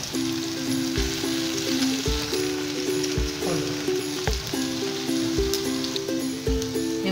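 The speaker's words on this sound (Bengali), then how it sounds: "এবার এর মধ্যে লাল লঙ্কাগুলো দিয়ে দেব" Red chillies frying with salted eggplant in a pan, a loud continuous sizzle with crackling spits and occasional clinks of a utensil against the pan, with no talking.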